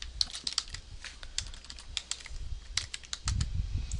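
Rapid clicking of typing on a computer keyboard, an irregular run of crisp close keystrokes with brief pauses, slightly heavier at the end.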